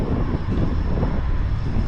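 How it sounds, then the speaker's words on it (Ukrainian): Continuous low wind rumble roars against the microphone while feeder fishing, steady and fairly loud with no voices. "Це вітер ще."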